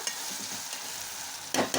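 Steady frying sizzle of bitter gourd, with a few louder scraping bursts near the end as the pan is stirred; no talking.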